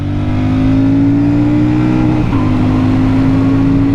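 A Royal Enfield Super Meteor 650 motorcycle accelerating toward motorway speeds, its engine note droning loud and close with rising pitch, a brief gear-change dip midway, then pulling on steadily with no talk.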